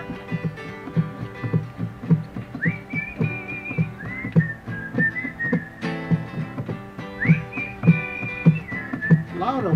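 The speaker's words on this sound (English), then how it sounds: "All the people that can whistle, whistle." Several people whistle a melody together outdoors at night over a strummed, rhythmic musical backing, the whistled tones wavering and sliding between notes.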